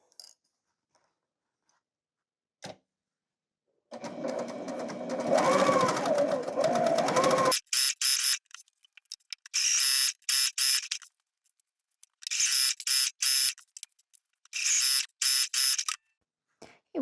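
A home sewing machine chain-stitches pieces for a scrap pillow, running in several separate bursts of rapid mechanical whirring after a quiet start, close up and with no talk.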